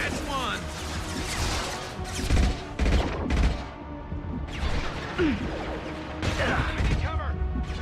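Gunfire in the video game Mass Effect 2, bursts of weapon fire and crashing impacts in quick clusters, loud and under overlapping shouted voices.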